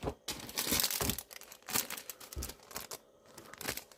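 International post envelopes rustle and crinkle as they are handled, close and fairly loud, in irregular bursts of papery crackling with short gaps between them and no talk.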